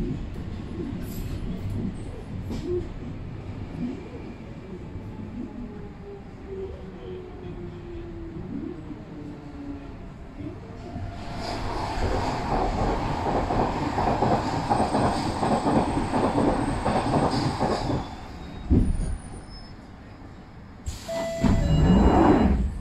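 A Stratford-bound Jubilee Line 1996-stock London Underground train runs between Wembley Park and West Hampstead, with rumbling wheels and clickety-clack building to a louder roar, then brief squeals and bursts as it slows.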